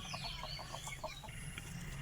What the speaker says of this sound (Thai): ส่วนนี้ก็เป็นไก่ไก่ไข่นะคะ ไก่ไข่